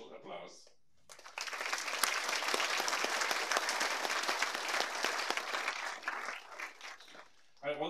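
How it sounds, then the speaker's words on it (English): Sustained audience applause fills the hall at the WorldSkills Competition 2022 Special Edition closing ceremony in Leonberg, a dense crowd clapping for several seconds after a short spoken lead-in and fading as a voice returns at the end. "A big special applause."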